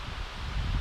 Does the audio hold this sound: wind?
yes